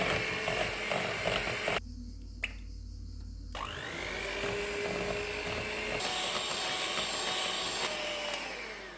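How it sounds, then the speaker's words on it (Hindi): An electric beater whirs steadily through cake batter and sugar, a close, continuous motor hum with a short pause near the start, then a faintly rising pitch as the mixing settles into an even drone. "अब बीटर की मदद से इसको अच्छी तरह मिक्स कर लेंगे।"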